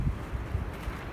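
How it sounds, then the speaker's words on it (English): Gusty wind buffets the microphone with a low, rumbling roar for a brief moment, with no voices, outdoors in a garden in March. "it's very windy"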